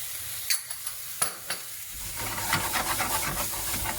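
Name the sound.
spices and vegetables gently frying in a pan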